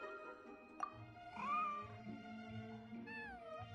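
A white, fluffy cat in the game Genshin Impact meows several times in drawn-out, rising and falling calls over a soft musical background, with no talking.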